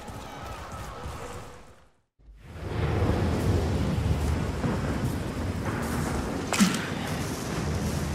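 A thunderstorm builds in an Outriders video game cutscene: a deep, rolling rumble of thunder with rain and wind. It drops briefly to near silence, then swells back as a loud, sustained roar with a sharp crack near the end.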